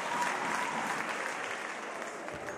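Spectators in the stands clap encouragingly during the Egis Körmend versus BC Balkan basketball game. The applause is a brief, even wash of many hands with no voices over it.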